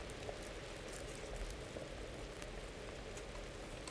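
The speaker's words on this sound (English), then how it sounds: "It's boiling as long as you can hear the bubbles" Liquid boils steadily in the video game Kingdom Come: Deliverance while brewing schnapps, a dense, continuous fizz of bubbles and small pops, quiet and unbroken throughout.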